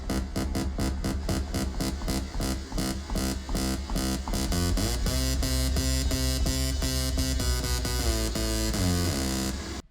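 Bright, buzzy lead synth heavily processed by an OTT-style multiband compressor set to zero depth, playing rapid staccato stabs that move into sustained, shifting notes, loud and dense throughout.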